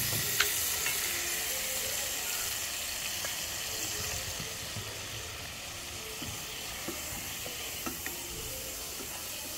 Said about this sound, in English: So stir fry them.